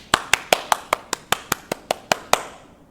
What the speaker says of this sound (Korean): 우리 함께 감사의 박수 한번 보내드려 볼까요?